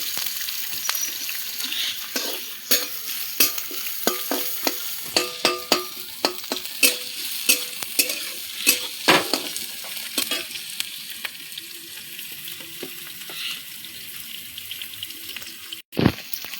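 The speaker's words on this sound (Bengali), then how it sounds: "এবার নাড়াচাড়া করছি একটু।" Garlic fries in a hot pan while a spoon stirs it, a soft sizzle under repeated sharp scraping and tapping strokes in an irregular rhythm, fading to quieter frying near the end.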